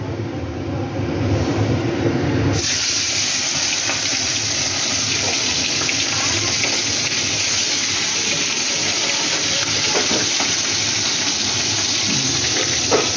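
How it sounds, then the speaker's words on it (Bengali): Bhetki fish pieces rubbed with salt and turmeric fry in hot oil, a loud, steady broadband sizzle and crackle that fills the whole stretch, jumping up in intensity after the first couple of seconds and holding there without talk. "এটা আমি ভেজে নিচ্ছি মাছটা।"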